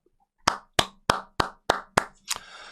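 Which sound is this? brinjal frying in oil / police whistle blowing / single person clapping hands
single person clapping hands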